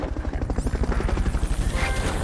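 A helicopter in Metal Gear Solid chops loudly and rhythmically close by, its rapid rotor pulses beating evenly throughout a short burst.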